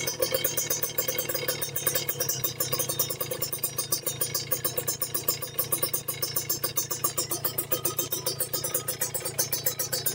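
A Kawasaki Ninja two-stroke motorcycle engine runs steadily through a full stainless racing exhaust. It gives a dry, buzzy, loud note with a fast, even pulse throughout, close by and without talk.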